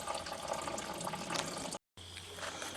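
Fluid draining out of a 1967 Galaxie during a 351-to-460 engine swap pours in a steady, close trickling gush, broken by a brief gap before running on.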